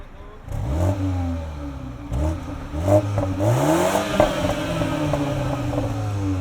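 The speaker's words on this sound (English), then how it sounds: "throw it into sport mode and give it a little rev" A 2020 Mini Cooper S Clubman engine revs up in bursts in sport mode, its pitch sweeping upward each time with a throaty exhaust note, loud and close.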